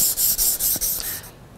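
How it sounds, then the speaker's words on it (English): Rhythmic rasping strokes of sanding the bottom of a guitar nut on a sanding block, about six quick back-and-forth passes close up, fading off at the end. "I'm going to sand the bottom of the nut itself"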